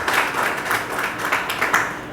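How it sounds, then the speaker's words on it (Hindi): An audience at a mushaira poetry gathering gives loud applause, dense overlapping claps from many people pulsing in waves across the whole moment, close and full. "मैं चाहता हूँ कि ऐसे बेहतरीन शख्स के लिए और श्रोता के लिए एक बार ज़ोरदार तालियाँ हों"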